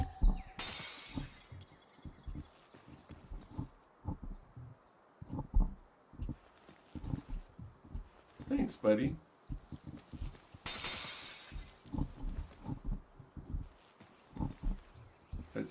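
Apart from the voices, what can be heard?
glass shattering in the video game Palworld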